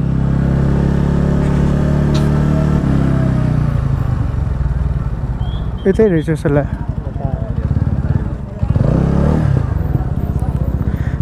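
A motorbike labours uphill toward a parking area near Pumdikot above Pokhara, its engine a loud steady low drone that eases and then surges, with people talking over it partway through.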